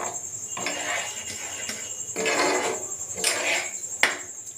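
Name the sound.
pots and utensils while preparing vegetable soup with baby corn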